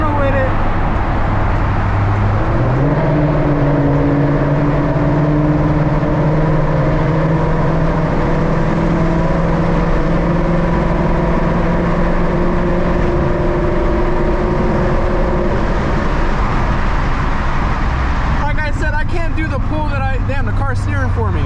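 A 2018-2021 Ford Mustang fitted with a Cervini's cowl hood drives through a tunnel, its engine a loud, close, enclosed drone that climbs in pitch early on and holds steady, with a brief burst of other sound near the end.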